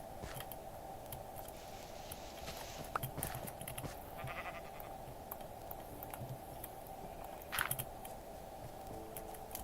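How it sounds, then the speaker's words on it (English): Blocky Minecraft sheep bleating in the game, a few short bleats spread across a quiet stretch over soft keyboard tapping and a faint steady hum. "We've also got a grey sheep here."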